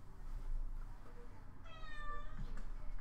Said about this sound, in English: As I say that, the cat is over here